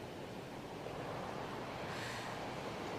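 Ocean surf washes in a steady, broad hiss of breaking waves, continuous and fairly soft, with a gentle swell in intensity near the end and no voices.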